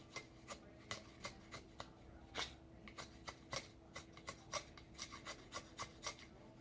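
A knife shaves and cuts into resinous fatwood, giving a series of short, crisp scraping strokes in a fairly regular rhythm, quiet and close, with no talking.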